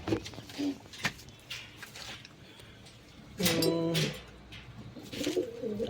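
Soft pigeon cooing repeats at close range, with a louder burst of calls midway and some faint background noise.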